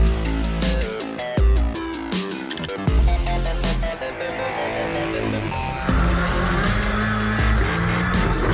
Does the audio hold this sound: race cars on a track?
yes